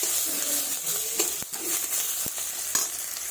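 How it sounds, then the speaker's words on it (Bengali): Chopped onion and black cumin sizzle in hot oil in a pan, a steady bright frying hiss broken by a few scraping stirs and clinks of a spatula, close up with no talking. "এগুলো একটু লাল লাল করে ভেজে নেব।"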